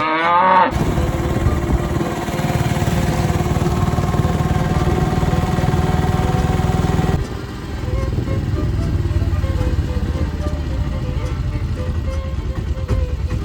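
Bullocks lowing amid a dense, continuous rumble of engines and outdoor commotion at the Lingampally Yellamma jathara festival in Telangana, the din easing slightly partway through.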